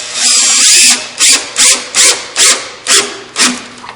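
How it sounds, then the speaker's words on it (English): A power drill drives screws into a wooden nightstand face frame: one long whirring run, then a string of short, evenly spaced bursts, loud and close with no talking. "my drill moved in my hand."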